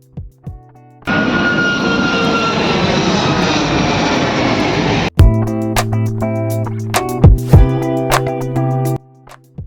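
Airplane on the Mumbai airport runway just behind a wall, a loud roaring engine rush for several seconds that cuts off abruptly, followed by sharp intermittent tonal noises.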